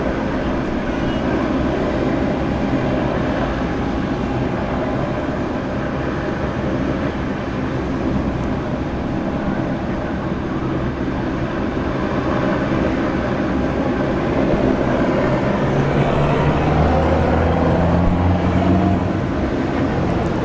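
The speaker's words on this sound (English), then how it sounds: "Leo 76, runway 16 right, clear for takeoff." A jet airliner takes off from runway 16 right at Sydney airport with a loud, steady roar of engine noise and broadband rumble, heard from a distance and building slightly toward the end.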